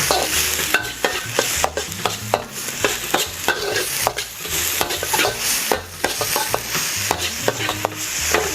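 Garlic and onions sizzle and get stirred in a hot pan, with steady frying crackle and repeated sharp scrapes and clinks of a utensil against the pan close up.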